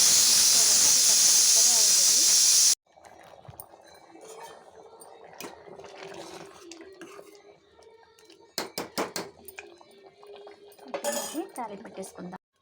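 Steam hisses loudly and steadily from a pressure cooker while cooking dal for about three seconds, then cuts off, leaving quieter kitchen clinks, utensil knocks and clattering pots close by.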